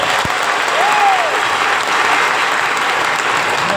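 An audience at a cosmetic products training session claps loudly and steadily, a thick, continuous round of applause from many hands, close and unbroken throughout.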